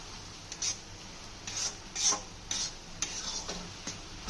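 Dry poppy seeds are stirred in a pan, with quiet gritty scrapes and rasps coming in short separate strokes over a low, faint background.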